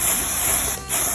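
A loud, close aerosol spray hisses steadily onto a show calf's leg, breaks off briefly, then resumes for a short final burst.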